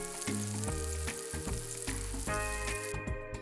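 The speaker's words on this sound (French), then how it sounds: "Une fois que ça commence à caraméliser, vous pouvez mettre les tranches d'ananas." Pineapple slices frying in a caramelizing pan with vanilla extract and passion fruit purée, giving a steady close sizzle with scraping and stirring bursts throughout, alone with no voices.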